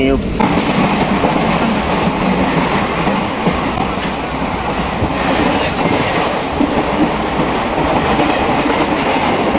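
A passenger train runs steadily on its rails with a loud, continuous roar and rhythmic clickety-clack of wheels throughout.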